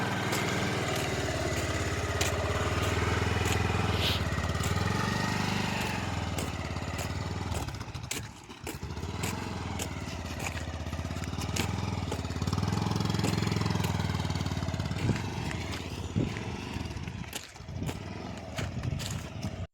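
A motorcycle engine runs steadily throughout as it climbs a steep, rough mountain road in Sikkim between Lachung and Yumthang valley, with a loud, continuous mid-pitched drone and a brief dip midway.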